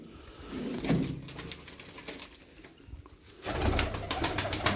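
Tumbler pigeons and their young coo in a loft setting, with repeated low murmuring calls over a continuous noisy background that swells louder toward the end.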